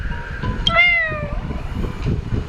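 A cat character in the game Honkai Star Rail gives a single clear, rising-then-falling meow, close and fairly loud over a low rumbling background.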